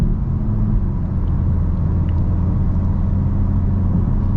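A 2022 VW MK8 GTI S pulls hard through corners, its engine a steady, loud low rumble heard from inside the car without letup.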